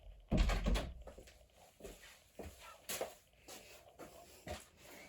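A door is opened indoors to let a cat in, giving a sharp thump and rattle at the start followed by a few softer knocks and shuffling sounds, quiet and close.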